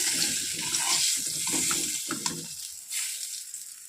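Fish fries in a pan, a close, steady hissing sizzle mixed with brief stirring and clattering sounds, without any talk.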